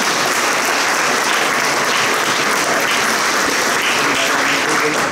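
A record crowd of about 276 people applauds at a university athletics hall of fame induction, dense and loud, sustained clapping for several seconds without talk.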